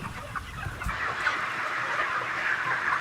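Hens cluck continuously in a densely packed commercial chicken shed, a dense overlapping chorus of many birds filling the space at steady, moderately loud level.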